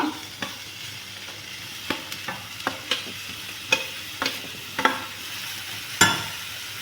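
Beetroot, tomato and onion stir-fried in a pan over curry leaves, with a steady low sizzle broken by sharp scraping clacks of the spatula every second or so, close and without voices.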